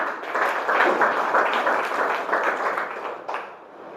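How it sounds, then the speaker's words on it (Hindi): A crowd claps loudly and steadily, a dense roar of applause that fades slightly near the end. "जोरदार ताली दीजिए।"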